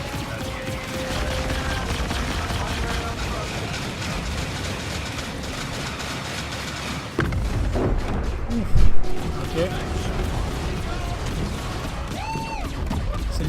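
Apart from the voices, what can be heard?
explosions in Star Citizen video game presentation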